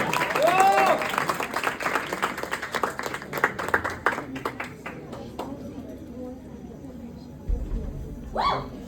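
Applause for a singer at a college event, a brief burst of clapping that thins out, with voices calling and talking over it and a few louder bumps near the end.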